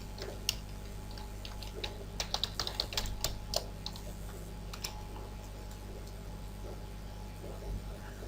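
Someone types a username and password on a computer keyboard: a quiet flurry of quick key clicks in the middle, over a low steady room hum.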